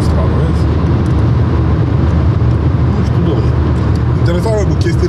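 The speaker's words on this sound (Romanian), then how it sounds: "Ia uite cum ne depășesc mașinile pe autostradă, vezi?" From inside a 2018 Renault Megane 4 with a 1.5 dCi engine on the highway, loud steady road and engine rumble fills the cabin as other cars overtake, with people talking over it.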